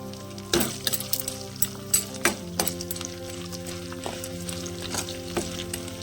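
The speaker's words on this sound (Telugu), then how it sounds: "ఇవి నూనెలో బ్రౌన్ కలర్ వచ్చేదాకా వేయించుకుందాం" Garlic and chana dal frying in hot oil for a village-style tindora curry, with a steady close sizzle broken by several clinks and stirring scrapes of a utensil against the pan.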